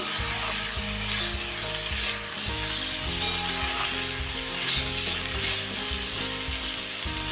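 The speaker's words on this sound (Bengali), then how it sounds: "এবারে মিষ্টি কুমড়োর মধ্যে টমেটোটা মিশিয়ে দেবো। ভালোভাবে মিশিয়ে নিতে হবে।" Tomato is stirred into pumpkin frying in a pan for a vegetarian pumpkin and chickpea dish, producing a steady, close sizzle with faint scraping throughout and no voices.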